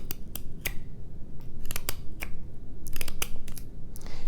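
A hook knife scooping wood out of a carved spoon bowl makes a series of crisp, irregular snicking cuts, close and clear over a low background rumble.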